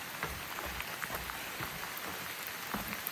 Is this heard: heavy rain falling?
yes